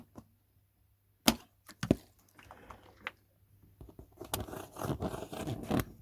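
Scissors snip through the packaging straps on a parcel of vinyl records, two sharp close cuts followed by rustling and scraping of the box and wrap.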